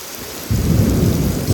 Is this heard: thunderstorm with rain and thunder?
yes